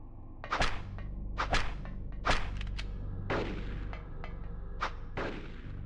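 Gunfire from Sybil in Silent Hill, a hard-mode knife-only run: around seven sharp, loud shots at irregular intervals over a steady low game rumble, with no talking.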